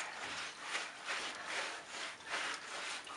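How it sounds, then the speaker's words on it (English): Bath brush scrubbing the lathered coat of a Springer spaniel, a steady rasping rub in rhythmic strokes, close and fairly loud with no talk. "And it's scrubbing his skin clean so the air can get to it."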